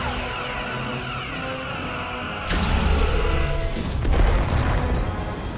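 Starship weapons fire and explosions in the Star Trek: Resurgence video game: a sudden loud boom that settles into a sustained rumbling roar, with a second surge of blasts, all over a steady background hum.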